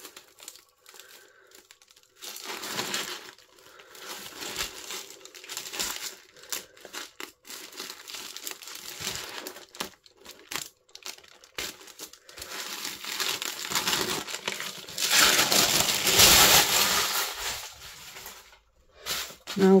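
Homemade faux rice paper being scrunched up by hand, a long stretch of close crinkling and crackling that swells louder toward the end, with a few tearing sounds.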